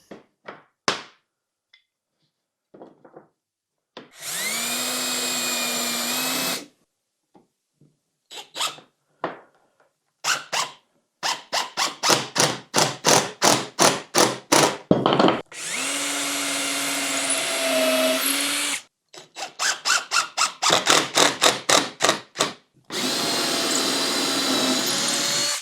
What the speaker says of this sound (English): Now I can just put my pieces in, drill my holes and just pop my screws in.